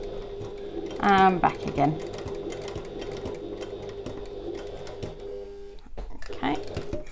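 A sewing machine stitching a bag in short runs, with brief bursts of rapid mechanical chatter separated by pauses, while someone talks close by.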